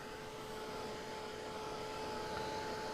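A handheld dryer blows steadily over wet paint on a mixed media piece, a constant close whooshing hum with a faint whine on top.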